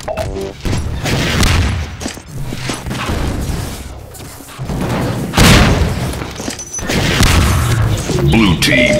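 Rocket explosions in a Half-Life 2 Deathmatch match, loud booming blasts landing repeatedly over a dense backdrop of game noise, with the heaviest bursts about midway and toward the end.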